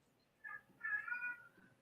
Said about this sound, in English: my cat is losing her mind